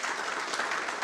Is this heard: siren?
no